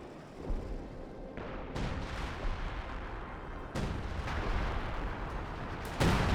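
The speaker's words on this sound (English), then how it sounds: "Major artillery there." A British major artillery barrage lands in the Company of Heroes 2 strategy game. Several heavy booming impacts, near 2, 4 and 6 seconds, ring out over a rumbling battlefield bed.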